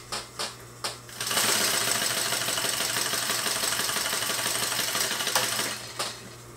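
Sewing machine stitching two kite-shaped fabric wing pieces together: a few short clicks, then a steady, close, rapid mechanical whir that runs for several seconds before stopping, followed by another click, with no talking.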